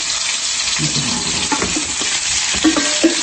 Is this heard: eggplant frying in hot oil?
yes